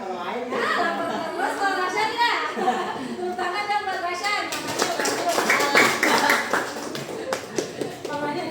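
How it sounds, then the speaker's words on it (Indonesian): Children chat and talk in a classroom coding lesson, then break into a burst of quick, irregular clapping for a classmate, with voices continuing over the claps. "Tepuk tangan dong buat Rasya"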